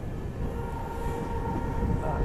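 Diesel-hauled passenger train on a non-electrified single-line section in Assam, heard from inside a coach: a steady, loud rumble with rolling wheel noise and a faint sustained tone, continuous throughout.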